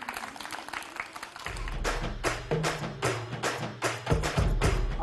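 Children's game-show audience clapping together, a dense patter of hand claps with thumps that swells and continues steadily for several seconds.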